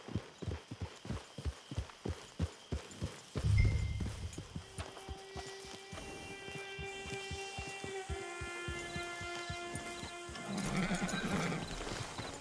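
Hooves clip-clop in a steady walking rhythm, then a horse gives a loud whinny followed by a snort, close and clear, in the video game Red Dead Redemption 2.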